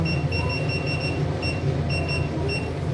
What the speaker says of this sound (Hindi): 15 मिनट का टाइमर लगा चिमनी में मैंने।